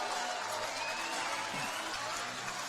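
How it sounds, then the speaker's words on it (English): Crowd at a boxing match, a corporate fight night, keeps up a steady broad roar of cheering and noise throughout, with no gaps or lulls. "the sound of the crowd will tell you how good this fight is"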